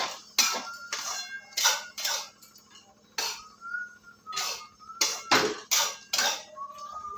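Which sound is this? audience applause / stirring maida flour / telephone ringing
stirring maida flour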